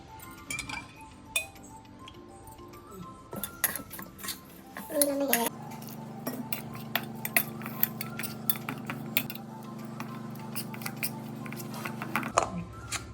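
Spiced elephant foot yam fry batter of turmeric, cumin powder, coriander powder, salt, corn flour and lemon juice being mixed in a bowl, with steady clinks and scrapes of a spoon against the dish repeating close by throughout.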